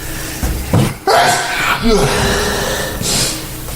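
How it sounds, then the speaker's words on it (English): A close, loud sneeze bursts out amid a few sharp breathy vocal noises and short snorts, each one brief and abrupt. "Oh, hold on, I gotta sneeze."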